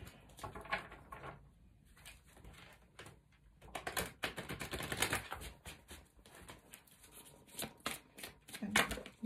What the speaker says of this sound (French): Alors, on me dit de mélanger les cartes comme ça.